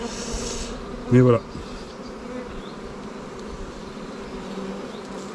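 Honeybees humming steadily around an open production beehive, a continuous close buzz with one brief louder pass near the start; a voice speaks briefly.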